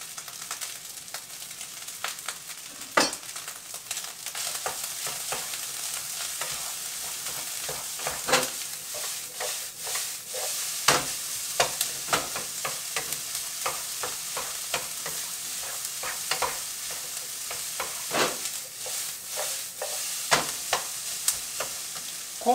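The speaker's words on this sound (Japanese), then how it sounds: "ピーマンちょっと先入れましょう。 ちょっと硬いんでね、ピーマン。" Green bell peppers sizzle and stir-fry in a pan for takoyaki fried rice, a steady frying hiss broken by frequent scraping and clacking of the utensil against the pan.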